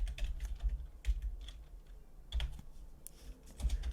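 Keys on a computer keyboard, including the space bar, are pressed in a short series of soft, close clicks and thumps with uneven spacing and no voices.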